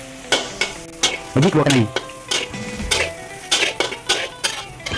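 Squid sizzles and crackles in a hot wok while a utensil scrapes and clanks against the pan in quick strokes; a voice briefly speaks over it.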